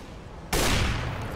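A single sharp AWP sniper rifle shot in Counter-Strike on de_overpass, a sudden loud crack midway through that is followed by a broad, decaying rumble.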